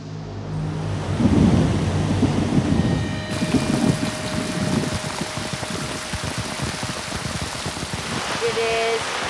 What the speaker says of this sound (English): It is pouring rain again.